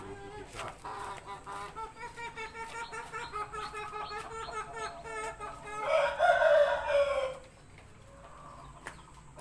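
Shamo chickens cluck in a busy, rhythmic stream during feeding, with one loud rooster crow rising near the end, close by and clear, plus faint bird chirps in the background.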